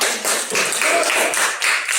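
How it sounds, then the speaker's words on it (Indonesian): Audience in a classroom or church-school setting claps hands together, a fairly loud burst of scattered applause lasting the whole moment with no talk over it. "Oke, beri tepuk tangan."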